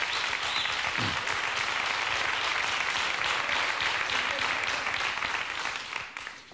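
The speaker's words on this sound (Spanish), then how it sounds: "Un aplauso para Cayetana." A studio audience at a comedy monologue show applauds loudly and continuously, a thick sustained clatter of many hands that tapers off at the very end.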